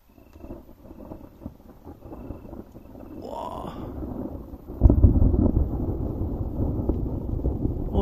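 Thunder after a lightning strike during a July thunderstorm in Allier, France: a low rumble that grows, then a sharp, loud crack and heavy rolling boom, with rain and wind noise and an excited man's exclamations briefly heard.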